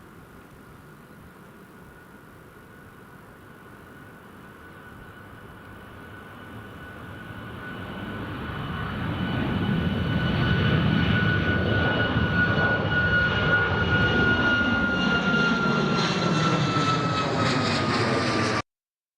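Ryanair jet airliner taking off at Newcastle Airport, engine roar swelling from a distant rumble to a loud sustained thrust as it passes and climbs, heard alone without talk.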